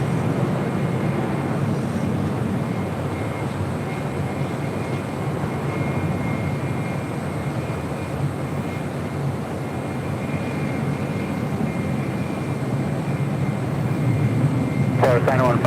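A jet airliner takes off from runway 25 right at LAX with a steady, broad roar of engines that holds for the whole stretch and swells slightly near the end, with radio talk over it.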